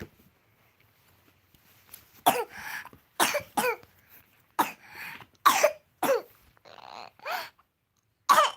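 A young child gives a series of about eight sharp, close coughs in irregular bursts, separated by short quiet gaps, indoors at home.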